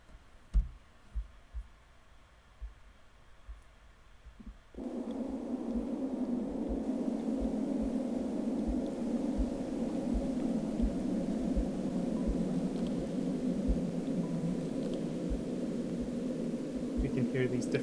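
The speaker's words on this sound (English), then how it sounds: "we can hear these different tones being generated by the resonator" Wind recordings fed through eight sound resonators produce steady droning tones that swell in abruptly after a few seconds of quiet, faint clicking, then hold as a dense, sustained hum with no speech.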